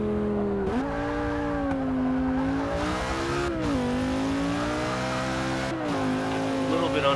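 A 2011 Audi RS5 Coupe in the Forza 6 racing game, its engine droning loudly through gear changes with rising and dropping pitch and some tire noise, heard close and continuous.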